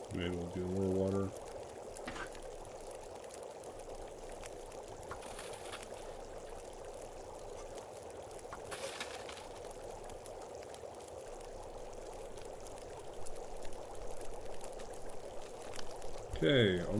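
Water pours steadily into a pot for about fifteen seconds, a continuous soft hissing stream framed by brief clatter at the start and end.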